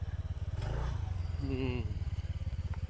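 A scooter engine idles close by in a low, pulsing throb that rises briefly as it is revved, with voices speaking over it.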